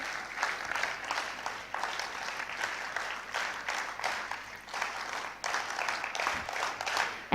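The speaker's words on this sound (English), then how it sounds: "एक बार NSS clap हो जाए हमारे speakers के लिए," An audience at a youth summit during a national youth festival claps for the panel speakers after a mental health discussion, a lively, uneven burst of many hands that swells and dips over several seconds.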